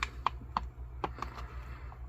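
Plastic zipper on a resealable pouch of Wise Company chili mac with beef being pressed shut, a few sharp close clicks spaced irregularly over a low steady hum.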